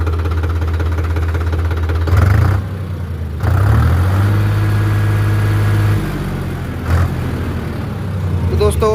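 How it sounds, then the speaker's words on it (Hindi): A Farmtrac 60 Worldmax tractor's diesel engine idles with a steady low throb, briefly revving up a few times, close and loud. "आवाज़ देख लीजिए दोस्तों, बिल्कुल स्मूथ आवाज़ है ट्रैक्टर की"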